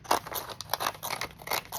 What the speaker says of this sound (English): if I take another pair of scissors and I zippy dippy around that